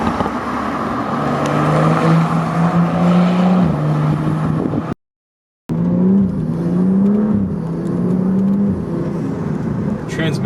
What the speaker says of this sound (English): there's so much turbo noise that's coming through the intake, and a little bit of blow-off sound as well every time that you kind of let off the throttle